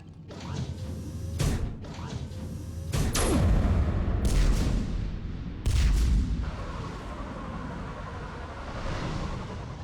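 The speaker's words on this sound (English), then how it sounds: "Have the guns punch a hole in the perimeter, then launch Shuttle 1." Heavy guns blast in a Mass Effect 3 battle to punch through a perimeter, firing several loud booming shots at uneven intervals amid clanking mechanical creaks and rumbling. No one speaks.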